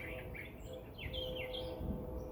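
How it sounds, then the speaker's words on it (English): Birds chirp outdoors in a few quick, high, fairly faint tweets over a soft rumbling background. "Sounds of birds."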